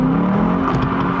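Lexus IS engine revving under added throttle with a raspy exhaust note, a loud steady growl heard close up with no talking.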